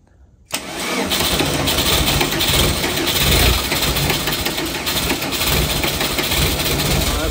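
An old VW Vanagon Doka diesel engine cranks briefly and then catches, roaring loudly into a steady, rough idle that continues close by for several seconds.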